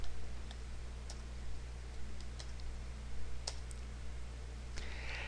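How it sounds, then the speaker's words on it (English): Computer keyboard keys, including the Enter key, on a point-of-sale ordering system: a handful of faint, sparse clicks over a steady low electrical hum, with no one speaking. "Hit the Enter key, then we'll put in the pant."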